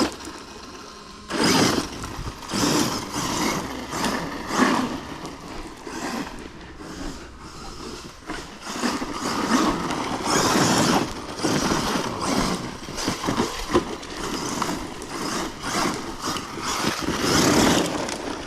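An Arrma Dirt Rat RC car with a Spectrum 1250kv motor and cooling fans on the controller, motor and body runs continuously, a loud, dense mechanical roar that surges in short bursts and pulls, with no talking.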